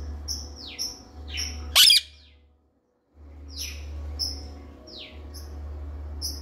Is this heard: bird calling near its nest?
yes